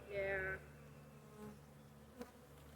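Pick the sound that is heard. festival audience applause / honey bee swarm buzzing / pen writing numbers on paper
honey bee swarm buzzing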